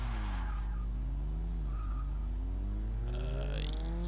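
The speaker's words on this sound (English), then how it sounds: "So let's try to do a burnout." Toyota AE86 Sprinter Trueno doing a burnout in Forza 6: a revving engine with sweeping pitch under sharp, rising tire squeal and skidding that grows loud near the end.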